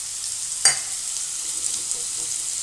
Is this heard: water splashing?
no